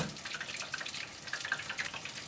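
Water trickles and drips into a pan of cooling honey sauce for honey chicken, a thin liquid splash under quiet room tone, with no talking.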